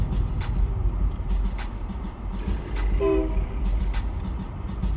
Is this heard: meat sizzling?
no